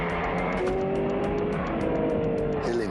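A Kia Stinger GT drives hard, its engine note rising and shifting through gears with a loud, continuous roar and brief tire noise, heard up close throughout.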